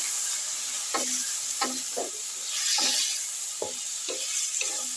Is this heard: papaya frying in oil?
yes